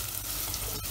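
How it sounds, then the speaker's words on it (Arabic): Finely minced onion sizzles in hot oil while being stirred, a brief burst of steady crackling frying close by. "بنضيف البصل مفروم ناعم، نقلبهم منيح مع بعض مع الزيت"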